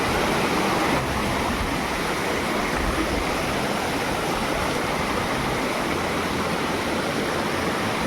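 Steady roaring rush of a big waterfall in a forest, close and loud, unbroken for the whole stretch with no talking.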